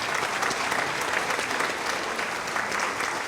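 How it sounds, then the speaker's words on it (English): Warm, steady audience applause fills a hall at a string music festival evening concert, dense and continuous from start to finish with no speech over it. "Why don't we give her a round of applause?"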